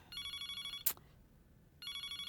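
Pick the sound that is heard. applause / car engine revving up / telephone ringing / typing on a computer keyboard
telephone ringing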